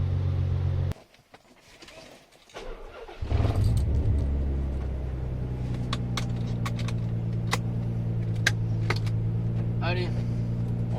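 A tuned 400 hp Nissan Z32 engine idles steadily after a brief start-up, its low rumble holding near and even throughout.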